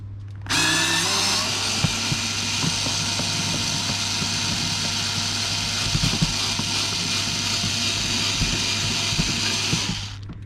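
A screwdriver backs screws out on a Range Rover L405 during a front camera repair, giving a steady run of small clicking, ratcheting turns close up over a constant background hum.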